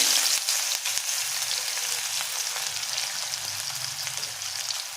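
Onions frying golden in hot oil in a kadhai, a dense continuous sizzle heard up close and fairly loud, with light stirring taps and no voices.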